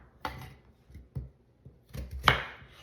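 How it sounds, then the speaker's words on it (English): A knife chops through a turnip on a cutting board, several sharp separate thuds at an uneven pace, close and fairly quiet, with no talking. "it's a little bit harder to cut than potatoes, so you cut it in half"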